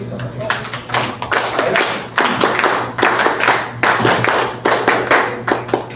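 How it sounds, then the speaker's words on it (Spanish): Loud applause at a political talk as a sociologist is welcomed to the podium, a small crowd clapping in irregular bursts of sharp claps, close and hearty, over a steady low hum. "Lo recibimos con fuertes palmas."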